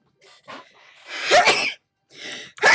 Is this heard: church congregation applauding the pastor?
no